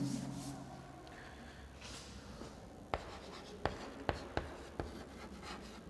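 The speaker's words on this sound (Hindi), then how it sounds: "इसको हम लिख लेते हैं।" Chalk or marker writing on a classroom board during a cell biology lecture: faint scratchy strokes, then a series of sharp taps and knocks spaced about half a second apart, close and moderately loud, with no speech.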